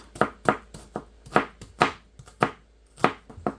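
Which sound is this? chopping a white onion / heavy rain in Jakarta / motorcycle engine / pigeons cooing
chopping a white onion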